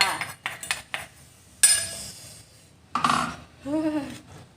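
Scraping and clinking of a utensil against a dish as cooked Thai papaya salad with boiled pork intestine is scooped onto a plate. There are several close, uneven scrapes and knocks, and a brief voice near the end.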